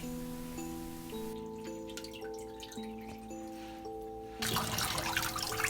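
Cold water squeezes and trickles out of soaked beef that is pressed firmly to drain blood for beef seaweed soup, with a wet splashing burst near the end over steady background music.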